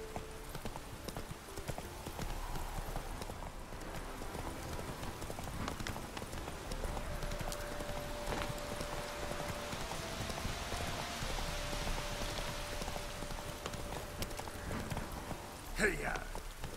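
Hooves of Roach, Geralt's horse in The Witcher 3, clip-clopping steadily at a moderate distance under ambient outdoor noise, with a brief louder thump near the end and speech occurring around it.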